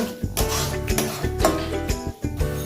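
Pointed gourd paste with turmeric being stirred in a pan, a steady run of close scraping and clinking strokes of a spatula against metal, sounding alone with no voices.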